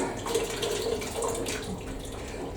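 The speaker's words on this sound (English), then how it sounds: "Just getting myself a bucket of water." Water running from an outdoor tap into a bucket, a steady close splashing gush that keeps going throughout with no voices.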